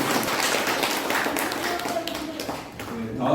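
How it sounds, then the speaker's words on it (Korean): An audience at a memorial society's founding meeting gives sustained applause, a steady wash of clapping that thins toward the end. "다시 한번 뜨거운 박수 부탁드립니다."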